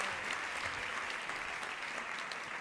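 A crowd at an ISKCON New York fundraiser applauds a donor, dense continuous clapping from many hands at an even, fairly loud level throughout.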